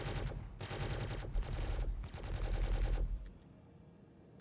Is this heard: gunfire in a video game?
yes